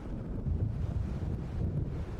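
Waves and wind at Cauldron Lake in the video game Alan Wake, a steady low roar of surf and gusting wind, loud and continuous, with no voices.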